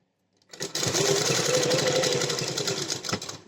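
A sewing machine stitches a sleeve seam: a steady, close motor whir with a fast rhythmic needle chatter that starts after a brief silence and runs for about three seconds without talk.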